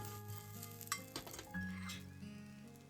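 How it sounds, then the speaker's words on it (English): Salted edamame stirred in a pan while grilling: soft sizzle under light clinks and scrapes of a utensil against the pan, quiet and close, with no talking. "I sprinkle salt and mix them and distribute the salt to all."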